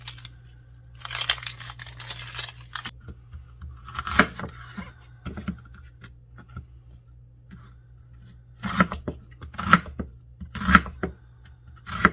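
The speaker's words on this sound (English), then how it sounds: "now I'm going to cut up one large onion" A knife cutting up one large onion on a board, with bursts of crisp slicing and rustling in uneven clusters, close and fairly quiet, separated by near-silent pauses.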